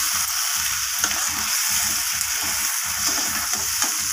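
Chicken legs frying with garlic paste in a pan, a steady loud sizzle broken by regular scraping stir strokes about twice a second, close up with no talking.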